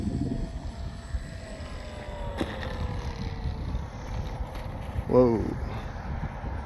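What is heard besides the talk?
Dynam ME BF-109 RC model airplane flying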